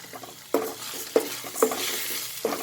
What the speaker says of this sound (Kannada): ಆಮೇಲೆ ಹೆಸರು ಬೇಳೆ ಒಂದು ಅರ್ಧ ಕಪ್ ತೊಗೊಂಡಿದ್ದೀನಿ, ಅದು ಕೂಡ ಆ್ಯಡ್ ಮಾಡ್ತಾಯಿದ್ದೀನಿ